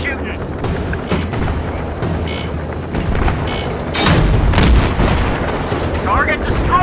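An M1 Abrams tank's main cannon firing at targets on a range, heavy booms and rumbling blasts recurring over several seconds, loudest near the middle, with voices calling out amid the firing.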